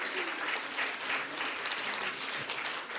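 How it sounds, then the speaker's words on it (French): An audience at a 2020 French peer-support colloquium applauds a disability rights advocate, a continuous, moderately distant bed of many hands clapping that holds steady throughout. "on peut l'applaudir"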